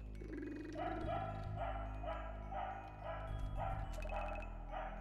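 A dog barks repeatedly in a steady series of short, fairly close, loud barks, heard alone with no talking.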